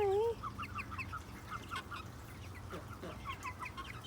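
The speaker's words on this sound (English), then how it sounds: "Hello, little chickens. How are y'all? Are y'all hungry this morning?" Chickens in a morning farmyard cluck in short, repeated calls, with one louder squawk at the start and softer clucks scattered throughout, fairly close over a low background hum.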